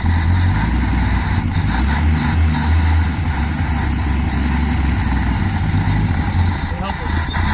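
A 1968 Dodge Coronet engine revs loud and steady with a deep throaty rumble, the carburetor being pushed harder for a sustained high-idle roar with no break.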